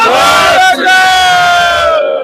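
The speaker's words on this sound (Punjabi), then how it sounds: "ਇੱਕ ਜਕਾਰਾ ਛੱਡਾਂਗੇ ਜੀ ਬੋਲੇ ਸੋ ਨਿਹਾਲ" A Sikh crowd bellows the jaikara war cry in one loud, sustained collective roar that fades out at the end.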